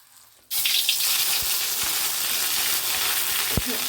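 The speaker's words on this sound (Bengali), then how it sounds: "এগুলো শুকনো মশলা তাই একটু জল দিয়ে নিলাম" Water poured into a hot pan of ginger paste, salt and dry spices for a vegetarian curry, bursting into a loud, steady sizzle that continues unbroken to the end, with a few faint stirring knocks.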